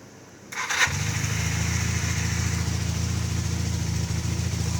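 A twin-cylinder Honda motorcycle engine, just back together after a carburetor cleaning, catches after a brief crank and settles into a steady, even idle close by, with no talk over it.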